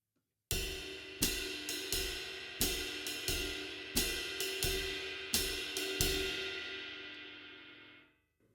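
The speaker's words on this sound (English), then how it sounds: "Ride cymbal playing the jazz pattern, hi-hat in 2 and 4, and the bass drum feathering" A jazz swing pattern on the ride cymbal, steady shimmering strokes with a sustained wash beneath, played close and alone, fading out at the end.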